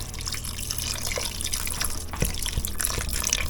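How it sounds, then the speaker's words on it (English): Water splashes and trickles steadily into a pot of moose meat for stew, a continuous liquid pouring sound at close range. "now we just add a"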